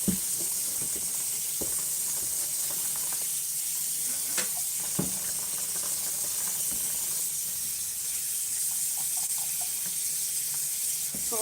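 Tap water runs into a kitchen sink while dishes are washed, a steady hiss of flowing water with occasional clinks and knocks of crockery throughout.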